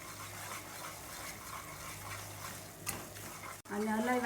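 Semolina dry-roasting on high heat in a pan for ghughra is stirred steadily, giving a continuous soft scraping and rustling texture with a brief sharp clink near the end, at close range.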